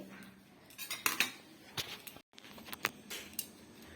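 Dishes and cutlery during a family Sunday lunch of rice and fried potato and cauliflower: sporadic clinks and scrapes of utensils on plates, close and quiet, with brief pauses between strokes.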